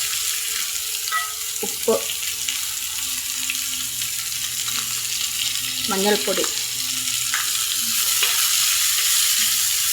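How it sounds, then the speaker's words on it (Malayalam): Chopped onions sizzle and fry in a pan for a chicken curry, a constant close hiss with occasional stirring clinks, while a voice briefly names seasonings. "ഉള്ളിയെ നമുക്കൊന്ന് നന്നായിട്ട് വഴറ്റിയിട്ട് വരാം."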